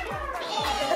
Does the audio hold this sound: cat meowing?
yes